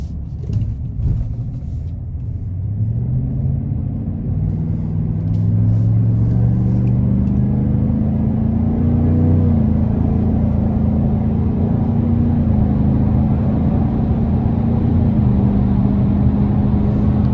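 A 2024 GMC Sierra 1500 AT4X with a 6.2 V8 and active exhaust pulls hard onto an interstate in sport mode, a deep, loud, steady engine drone building and holding close up, with no talk over it.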